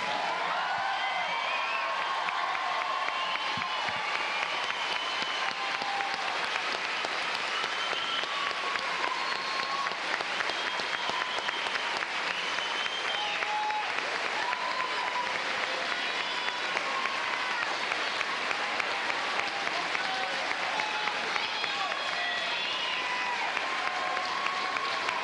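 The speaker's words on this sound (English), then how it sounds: "let's stand and applaud the graduates of 2008" A standing crowd applauds the 2008 graduates at Ste. Genevieve High School, sustained thick clapping mixed with cheers, whoops and shouts throughout a long ovation.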